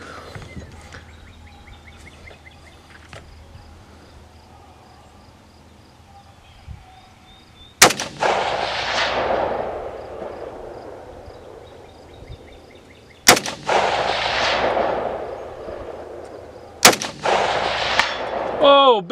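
Three loud, sharp rifle shots from a Ruger Precision and an XCR at an outdoor long-range shooting session, each crack followed by a long rolling echo, after a quiet stretch of faint ambient noise and birds.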